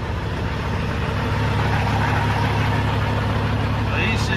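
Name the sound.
Cat C15A truck engine idling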